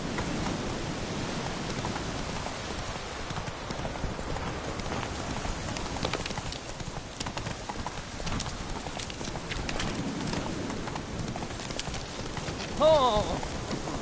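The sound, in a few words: horse Roach galloping in video game The Witcher 3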